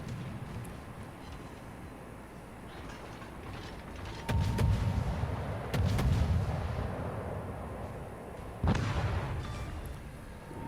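Heavy naval gun salvos from a warship in a naval combat game, including the cruiser Belfast: three deep booming blasts near 4.5, 6 and 9 seconds over a steady low rumble of engine and sea.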